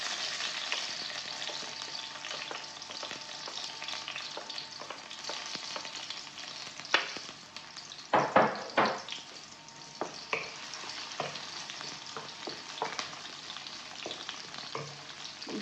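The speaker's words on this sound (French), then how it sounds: "l'huile est bien chaude, donc je viens verser les oignons. Je fais revenir un petit peu." Onions frying in hot oil in a pan, a dense, steady sizzle throughout, with occasional louder pops and clacks from stirring, and no voices.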